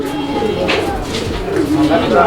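A male pigeon coos in a pen of fancy breeding pigeons, soft repeated throaty calls close by, with someone talking over them throughout.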